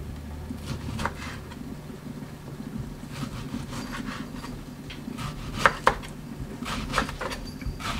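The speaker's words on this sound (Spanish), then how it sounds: "unos platanitos hervidos, así los voy a cortar" Boiled plantains being cut with a knife in a home kitchen, irregular soft taps and scrapes on a board, a few sharper knocks, close over low background hum, no talking.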